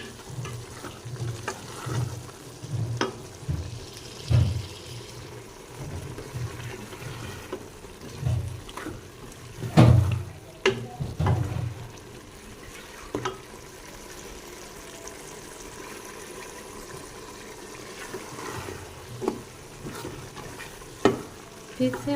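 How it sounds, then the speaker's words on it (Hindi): Spiced minced meat with potatoes frying in a pan, a soft continuous sizzle broken by repeated spoon stirs and scraping knocks against the pan at irregular intervals. "फिर से हम 4 से 5 मिनट तक इसे भूनेंगे।"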